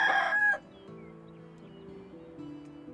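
A rooster gives a loud crow at a chicken vendor's stall in the medieval village game Medieval Dynasty, followed by soft clucking under quiet ambient music.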